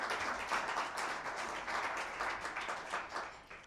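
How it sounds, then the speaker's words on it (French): Audience applauding at an official award ceremony, a steady faint wash of clapping hands throughout, heard from some distance. "On peut les applaudir."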